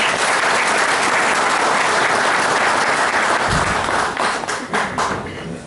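A crowd at an Antalya Yörük association gathering applauds with steady, dense clapping that carries on for several seconds before thinning out into scattered claps near the end.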